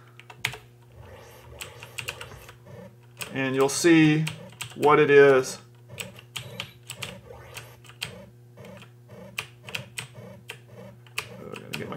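Steady clicking of a computer keyboard as keys are pressed to play a Commodore 64 game on an emulator, rapid close taps with a brief spoken remark in the middle and a constant low electrical hum.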